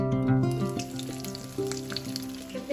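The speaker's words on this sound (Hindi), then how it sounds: "इस तरह से हम इसको पलट कर फ्राई करते जाएंगे।" Maggi cheese balls made with boiled potato fry in hot oil, a steady close sizzle and bubbling that continues without pause.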